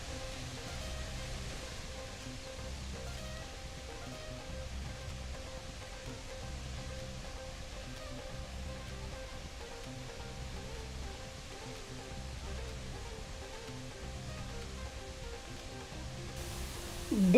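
Steady broadband rush of water pouring over a waterfall, a constant, even roar with no voices, swelling briefly louder at the very end.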